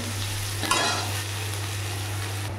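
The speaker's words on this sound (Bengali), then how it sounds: "পেঁয়াজটা একটু ভাজা ভাজা হোক, তারপর মশলাটা দেবো।" Onions sizzle steadily in oil in a pan while cooking tilapia fish curry, a continuous close frying hiss with a brief scrape of stirring partway through and a low steady hum beneath.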